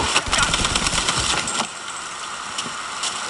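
Rapid gunfire in a Mafia III shootout in New Bordeaux, a fast rattling burst of shots up front that thins to scattered single cracks over a steady background hum.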